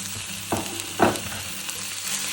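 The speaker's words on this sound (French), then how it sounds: "Et une fois que les oignons sont dorés, pas trop cuits, j'ajoute la viande hachée" Minced beef sizzles in a pan with golden fried onions for chili con carne, a steady low frying hiss broken by two scraping stirs, close up and without voices.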